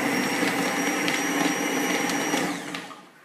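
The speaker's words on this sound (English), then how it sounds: "Just have to turn the blender on." A blender whirs through a vanilla protein shake, a steady loud motor whine with a high tonal edge that holds for a few seconds before cutting off and winding down.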